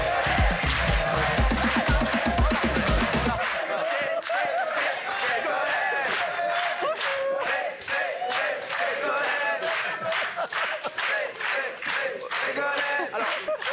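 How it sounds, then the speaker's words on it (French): A studio audience on a French talk show breaks into loud, sustained clapping and cheering that fills the room, with a burst of music at the start. "Applaudissements."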